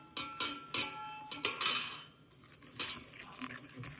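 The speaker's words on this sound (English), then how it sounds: "slowly temper this mixture by adding the milk to this while whisking it" A whisk clinks rhythmically against a bowl as milk is slowly added to an egg yolk mixture, tempering custard for a mille-feuille; quick metallic taps come in bursts, fairly close, with no talk.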